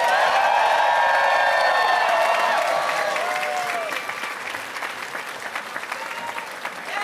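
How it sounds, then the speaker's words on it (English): Audience at a New York LGBTQ Pride reception breaking into thunderous applause with cheers and whoops, the clapping loud at first and then easing to a softer, steady patter. "give them a thunderous applause"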